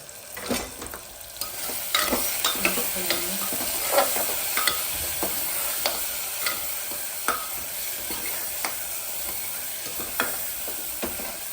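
Turmeric, red chili powder and salt are stirred through a sizzling pan. A spoon scrapes and knocks against the metal in an irregular rhythm over a constant frying hiss, close and without talk.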